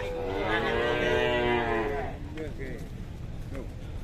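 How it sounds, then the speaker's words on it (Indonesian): An agitated cow unloaded from a truck lets out a long, loud moo close by, followed by shorter lowing calls and faint voices in the background. "Ini 3 ekor sapi betina keras semua nih"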